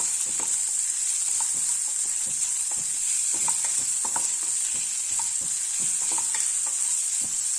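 Capsicum rice ingredients sautéing in a pan make a constant bright sizzle, broken by frequent soft scrapes and taps of a stirring spoon, close up with no talking.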